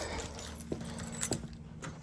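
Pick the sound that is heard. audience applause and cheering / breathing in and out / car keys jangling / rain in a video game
car keys jangling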